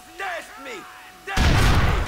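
An explosion goes off in Grand Theft Auto IV, a sudden loud burst of rumbling noise following a stretch of quieter game sounds with tonal whooshing sweeps.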